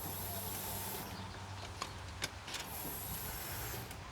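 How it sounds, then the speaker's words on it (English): Two electric fuel pumps prime in a 1988 Ford F150, making a steady whining hum with a high continuous whine that drops out midway and then returns, along with a few faint clicks and no talking. "we can hear two fuel pumps"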